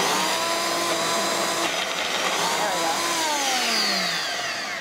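A blender pulsing frozen ingredients, a loud close motor whine with grinding and rattling that shifts in pitch as the blades chew through, running steadily under a brief spoken word.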